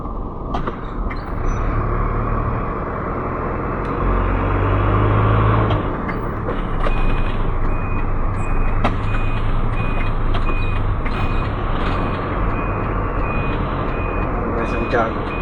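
A parked truck waits to be loaded, its engine rumbling loudly and close while a repeating reversing beep sounds at a steady rhythm through the second half.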